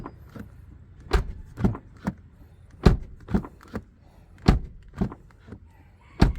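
A Toyota Yaris Cross's door handle is pulled and its door shut repeatedly, giving a series of sharp, close, solid clunks and clicks at irregular intervals against a quiet background.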